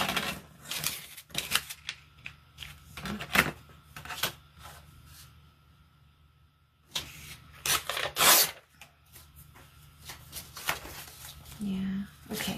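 Scissors snipping a paper scrap for a junk journal, several short crisp cuts and paper rustles in uneven clusters, close and fairly quiet, with a gap in the middle.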